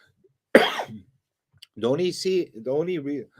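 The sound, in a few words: coughing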